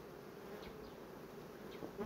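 Honeybees hum steadily at an apiary, a continuous close buzzing drone with individual bees passing by.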